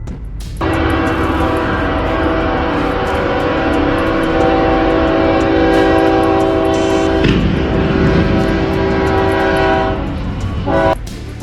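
A train rumbles past close by while its horn blares in a long sustained blast, fading near the end.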